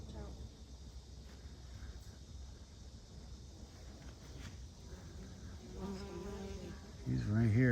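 A bee buzzing in a garden, a thin steady hum running under faint ambient noise, with a brief rising tonal sound near the end.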